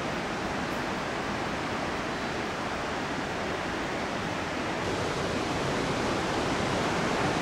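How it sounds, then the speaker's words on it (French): Water flowing through a valley in Skocjan park, Slovenia, a steady broadband rush of running water heard from a distance, constant and even with no voices. "On entend l'eau, on la voit à peine."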